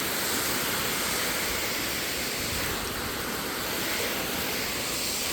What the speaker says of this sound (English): we're gonna rinse this off